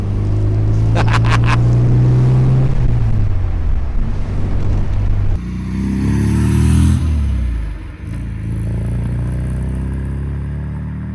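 A 1969 MGB engine rumbles steadily, then shifts in tone partway through with a lower, rougher idle; some clattering and a brief voice appear early on.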